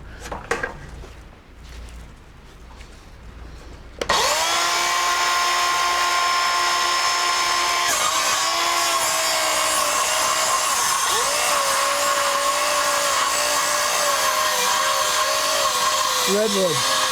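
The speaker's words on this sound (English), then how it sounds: "I won't get so wacky with my chainsaw when I go to cut those straight lines" Chainsaw cutting a redwood live edge slab for a shelf, quiet handling at first, then the saw roars to life and holds a loud, steady buzzing whine with small pitch dips as it bites into the wood.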